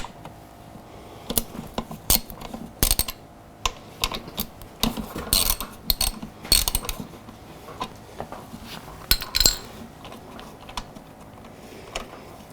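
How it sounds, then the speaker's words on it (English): Wrench work loosening radiator bolts on a Yamaha R6 motorcycle: a string of sharp metallic ratchet clicks and tool clinks come in irregular bursts, close and moderately loud, with a steady low background hum and no talking. "we're going to want to unbolt these two things here"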